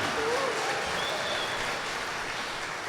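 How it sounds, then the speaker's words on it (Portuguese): A church congregation at Sunday Mass applauds in a sustained, even patter that fills the whole stretch, moderately loud, with a faint voice and a brief whistle-like tone above it. "Uma salva de palmas para Deus que prepara o lugar para todos."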